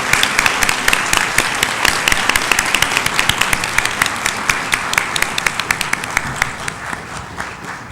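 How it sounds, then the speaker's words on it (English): A university audience applauds steadily to welcome a Nobel laureate and honorary doctorate recipient on stage, dense sustained clapping from many hands that thins slightly toward the end. "please give a big applause to welcome our honorary doctorate and Nobel Laureate, Professor Bruce Allen Beutler"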